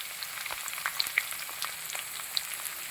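Chopped garlic frying in oil for a mixed vegetable kurma, a steady soft crackle with scattered sharp pops and spits close by, no voices.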